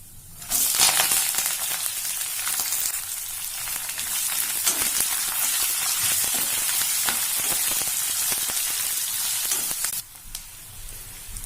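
Cashews, curry leaves and sliced onion frying in hot oil in a pan for mint rice, a steady loud sizzle with occasional stirring scrapes, no talking.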